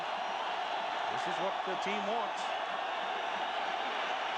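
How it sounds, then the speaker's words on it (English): A stadium crowd at a 1995 college football game between Iowa and Penn State keeps up a broad, steady roar throughout, with a commentator talking over it. "Crowd gets into it a bit now."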